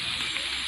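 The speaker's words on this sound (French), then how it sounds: "ça tombe bien, il pleut" Steady rain hisses evenly in the Roblox Brookhaven RP game, a constant close wash of falling water with no pauses over a very short stretch.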